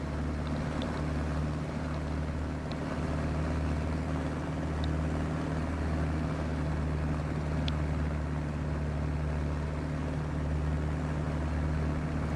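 A de Havilland Chipmunk light aeroplane in flight holds a loud, steady engine and propeller drone heard from the cockpit, continuous and even throughout with no talk.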